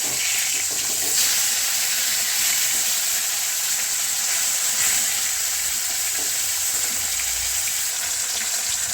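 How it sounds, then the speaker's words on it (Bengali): After being turned over, fish keeps frying in hot oil with a dense, even sizzle and light bubbling crackle that runs steadily and close for several seconds without speech. "একদিক খুব ভালো করে ভাজা হয়ে গেছে, এবার আমি এটা উল্টে নেবো"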